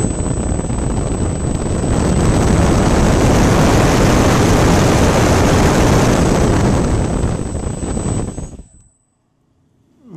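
A small electric motor on a Multiplex EasyStar model airplane runs at a steady, loud whine with a constant high tone for about eight seconds, then cuts off abruptly into near silence.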